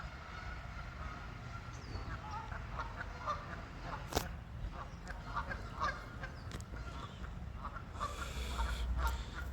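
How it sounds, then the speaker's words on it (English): Distant geese honk intermittently along a creek over a constant low outdoor background, with a sharp click partway through. "Charity, you hear these freaking geese?"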